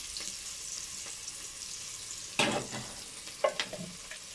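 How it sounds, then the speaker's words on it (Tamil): Onions sizzle as they fry in a pan for soy bean biryani, a steady close hiss broken by a few sharp scraping stirs of a spoon against the pan. "வெங்காயம் வதங்கிருச்சு."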